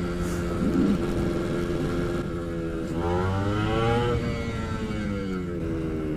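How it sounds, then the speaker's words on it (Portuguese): A Yamaha RD two-stroke motorcycle rides along at close range, its engine buzzing steadily and rising in pitch as it revs up and eases off, with no talk over it. "Delícia de pilotar RDzinho. Saudade do dois tempos"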